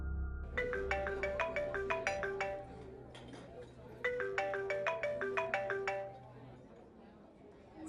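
A phone ringtone plays two bursts of rapid, melodic beeps separated by a short pause, with faint chatter in the background.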